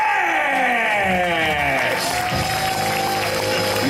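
A crowd greeting a performer named Stretch with applause, cheers and whoops, loud and dense for a few seconds, with an excited voice shouting over the clapping.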